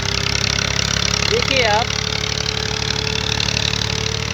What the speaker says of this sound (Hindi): ये ट्रैक्टर जो जा रहा है अपने दरख्त को काट ले जा रहे हैं